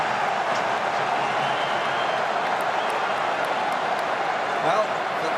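Big stadium crowd of rugby fans at the Top 14 final between Toulouse and La Rochelle, a steady loud roar of cheering and murmur that swells slightly near the end, with commentary voices blended under it.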